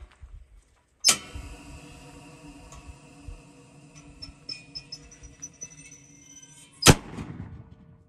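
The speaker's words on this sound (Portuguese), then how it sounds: "Olha o trabuco aí, pessoal, para espantar a maritaca." Bird-scaring cannon in a passion fruit field used against parakeets, two sharp loud blasts several seconds apart, each cracking out and echoing off, with quieter clicks and rustles between.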